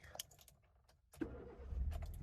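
A first-generation Hyundai i10 cranks with a short starter burst, then settles into a low, steady idle close by. A few light clicks and jingles, like keys, come before it.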